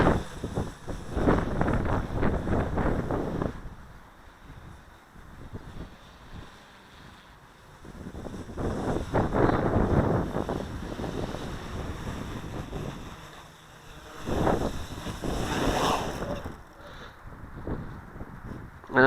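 Gusty wind buffets the microphone during the maiden flight of an SK450 quadcopter on a windy day, loud roaring surges rising and falling in several waves with quieter lulls between.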